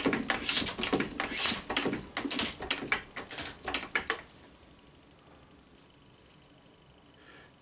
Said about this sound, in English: when you feed this, it doesn't ratchet unless you keep a bit of friction on this side here